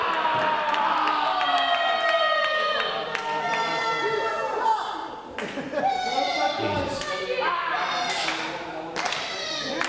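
Crowd cheering and clapping at a wrestling event, swelling in loud waves throughout under a commentator's excited talk.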